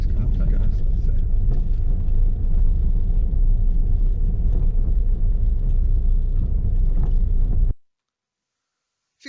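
A car engine on a driving test drone heavily and steadily as it labours uphill in second gear, a loud continuous rumble that cuts off abruptly near the end.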